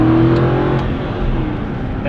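Aston Martin V8 Vantage Roadster's V8 revving hard, a loud close-up roar that peaks at the start and then settles into a steady, slowly fading drone, with no talking.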